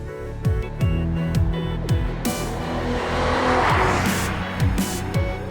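A Mercedes-AMG C-Class convertible, C43 or C63, drives hard on an open road, its loud engine revving in repeated pulls and gear changes with some tire noise, close and with no talk over it.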